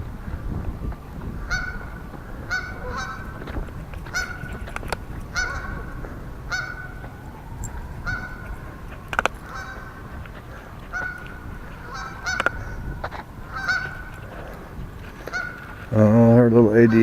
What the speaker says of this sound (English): Stop trying to chase those geese.